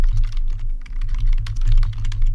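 Rapid typing on a computer keyboard while entering text for a beginner entrepreneur's web page, with dense, steady clicking of keys, close up and continuous, with no voices.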